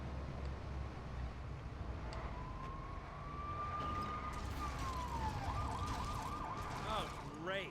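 A police car siren in the video game LEGO City Undercover rises in a long wail and then breaks into a rapid yelping warble over a loud, constant rumble of engine and traffic.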